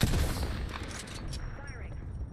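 Dense automatic weapon fire in the battle royale game Apex Legends, a loud sustained burst of rapid shots filling the whole stretch, with a faint voice underneath.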